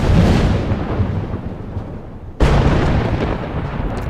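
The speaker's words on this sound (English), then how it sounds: "I think there's rain and a thunderstorm going on here." Thunder rumbles through a rainy storm in the video game Life Is Strange: a loud roaring rumble fades over two seconds, then a second sharp thunderclap bursts in and rolls on, with a steady wash of rain beneath.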